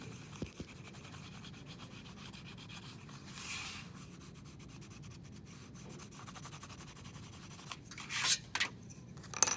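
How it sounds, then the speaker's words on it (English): Gentle burnishing rubs the back of a metal sheet for repousse, producing faint, soft scraping strokes at close range, with a few sharper scratchy bursts near the end. "So I'm going to flip it over and very gently burnish the back side again."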